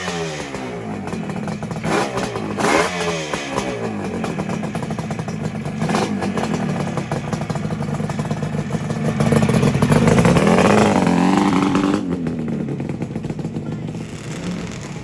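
A two-stroke Yamaha DT400 motorcycle with port work, a recut head, a larger carb and the airbox deleted, heard as clattering start attempts followed by a loud raspy engine revving up and settling, close by.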